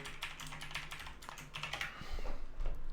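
A password is typed on a computer keyboard as a quick run of close, crisp key clicks in uneven bursts, growing slightly louder toward the end, with no voices.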